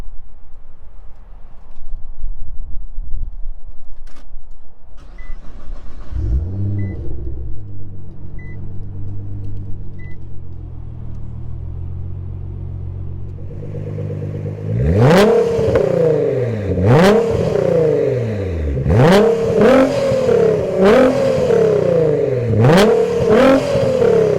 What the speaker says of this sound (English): let's get the car started, show that off more